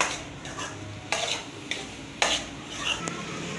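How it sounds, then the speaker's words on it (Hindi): A spoon stirs spices into half-boiled dal in a pan, giving a quiet steady scrape with a few sharper clinks of utensil on metal standing out, close by with no talk. "अब मैं बहुत अच्छे से जो है मसालों को दाल में मिक्स करूँगी।"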